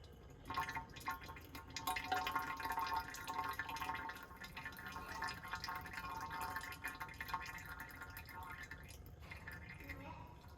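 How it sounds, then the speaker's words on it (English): Engine oil trickling and dripping from the drain of a RAM TRX truck during an oil change, a light steady liquid patter close by with someone talking over it. "So it looks like this drainage has come down to a very small amount."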